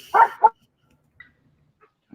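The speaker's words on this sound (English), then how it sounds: "Can you still hear the dogs in the background?" Dogs bark twice in quick succession, moderately close, followed by near silence with only a few faint distant sounds.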